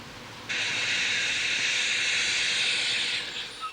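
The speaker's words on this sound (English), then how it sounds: "The pole is cooked in a high-pressure steam oven for 40 minutes." High-pressure steam oven curing a composite pole: after a half-second of low background noise, a loud, steady steam hiss starts abruptly, holds evenly for almost three seconds, then fades and sputters out.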